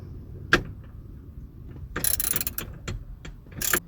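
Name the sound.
ratchet with extender undoing a minivan seat bolt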